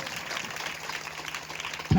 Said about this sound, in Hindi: एक जोरदार ताली बजाएंगे परमेश्वर की उपस्थिति के लिए